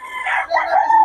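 A rooster crows once, loud and close, a single drawn-out call at a busy Bocaue market in the Philippines.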